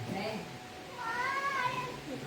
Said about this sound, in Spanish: No sé si hay un gatito ahí que escuché.